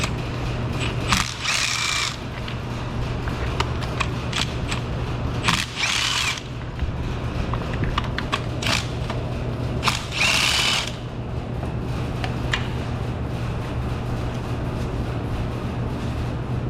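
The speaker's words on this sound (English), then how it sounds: "to remove the spark plugs, we're going to use our 5/8 deep socket attached to a 6-inch extension." A hand ratchet on a 5/8 deep socket with a 6-inch extension loosens spark plugs on a Mitsubishi Eclipse, giving three short bursts of close, rapid clicking separated by quieter pauses.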